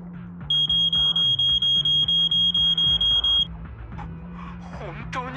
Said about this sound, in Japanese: 本当に警報が来たぞ